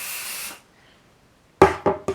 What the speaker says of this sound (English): I'm going to spray it with basting adhesive to help my fabric stick